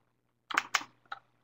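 A faulty computer keyboard, quiet and close, gives a few sharp key taps in quick succession and then one more after a brief gap.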